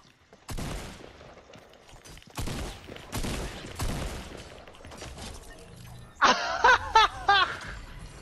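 Gunfire from a strafing player in the video game Fortnite crackles in several loud bursts, then a brief shattering jingle near the end.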